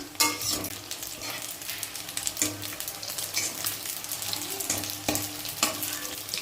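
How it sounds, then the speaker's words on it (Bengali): Small cut pieces of flour dough frying in hot oil give a continuous close sizzle and crackle, broken by repeated soft clacks of stirring or turning the pieces, with no voices. "এখানটায় তেল বসিয়ে দিয়েছি, এবার ভাজবো"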